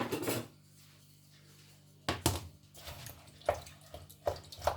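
Metal spoon scraping and clinking against a pot while tomatoes and black chickpea curry are stirred, a few separate close knocks and scrapes after a quiet pause.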